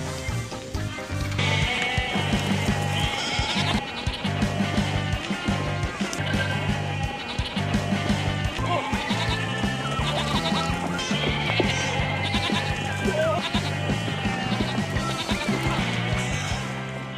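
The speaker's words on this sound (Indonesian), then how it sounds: "kambing-kambing tersebut malah berlarian ke sana kemari" Goats bleat repeatedly over a dense backing of music, the calls rising and falling as the animals run around, with no speech.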